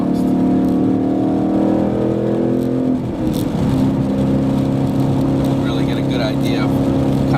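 A Ford Mustang GT with a Borla exhaust rumbles and drones through a tunnel, its deep engine note loud and steady, shifting pitch partway through as it revs.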